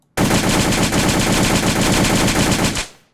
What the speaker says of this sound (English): Here's our AK on full auto.